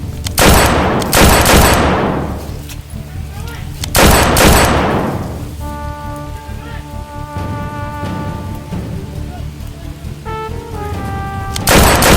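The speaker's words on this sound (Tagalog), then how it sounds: "Grabe na lakas ng baril nila." Loud video-game gunfire: heavy bursts of shots with long, decaying echoes, separated by quieter stretches of steady electronic tones and ambience.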